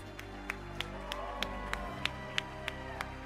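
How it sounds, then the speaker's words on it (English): Sparse, scattered hand claps from an audience applauding at a restaurant awards ceremony, set over a steady low hum of room noise and faint background murmur, with individual claps evenly spaced rather than a full ovation. "Round of applause for these world-class restaurants."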